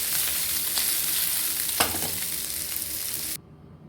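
Kozhuva fish frying in hot oil in a pan, a loud, continuous close sizzle with brief stirring scrapes, cutting off abruptly near the end.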